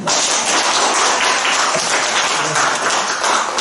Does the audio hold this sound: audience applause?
yes